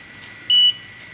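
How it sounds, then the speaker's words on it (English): A single sharp electronic beep from a buzzer triggered by an ultrasonic proximity sensor sounds up close, short and high-pitched, with fainter chirps around it. "when I move closer to the ultrasonic sensor, the buzzer beeps"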